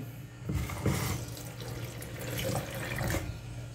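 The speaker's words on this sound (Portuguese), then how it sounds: "E vou colocar um pouco de água gelada." Ice-cold water poured while preparing a rice recipe, a steady, close splashing stream that runs for a few seconds, rising and falling slightly in loudness.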